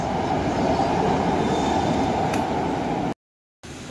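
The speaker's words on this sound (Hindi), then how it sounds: "ट्रेन हमारी आ गई कि जा रही है? जा रही है लगता है. छूट गई ट्रेन." Mumbai metro train pulling out of a station, a steady rumble of rolling carriages with a faint wheel squeal before a brief cutout, then the rumble returns.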